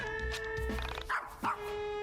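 A dog barks in the YIIK role-playing video game, two short yips over a steady looping game soundtrack with tonal chimes, no talking.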